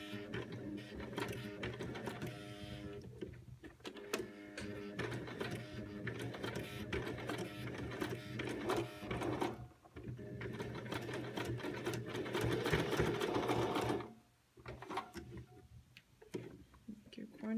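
A sewing machine stitching the pleats of a cloth face mask, running in a fast, steady mechanical chatter with brief pauses between seams, close and fairly quiet.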